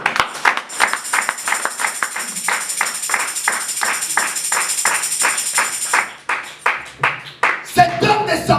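A church congregation claps in praise of the Lord, a steady rhythmic beat of roughly two claps per second that carries on for several seconds before a voice breaks in.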